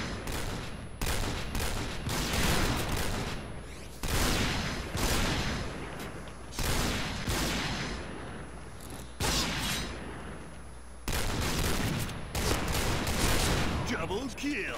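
A Cheytac sniper rifle fires in the online shooter Point Blank, its sharp loud shots coming in bursts every couple of seconds along with game effects, while someone talks over the action.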